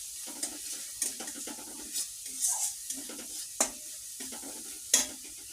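Masala sautés in a pan on a home stove with a soft, steady sizzle, broken by intermittent scraping strokes of a spoon as it is stirred, close and fairly quiet with no talking.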